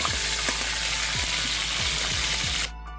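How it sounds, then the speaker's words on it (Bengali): Carrots fry in oil in a pan, a continuous close sizzle with light stirring scrapes, cutting off abruptly at the end. "আর গাজরটা আমি একসঙ্গে ভেজে নিচ্ছি"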